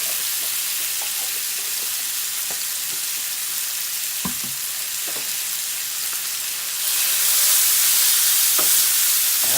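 Garlic goes into onions already frying in oil, giving a steady close sizzle that swells louder near the end, with faint stirring clicks underneath.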